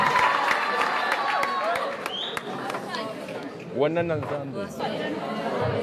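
A school debate audience claps and chatters as a proposition speaker is introduced, with scattered claps over crowd murmur and a voice speaking partway through.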